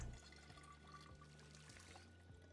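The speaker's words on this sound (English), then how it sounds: "Fill the water bottle." In Project Zomboid, a water bottle fills with a faint, steady pour and trickle that runs alone over a low hum, with no voices.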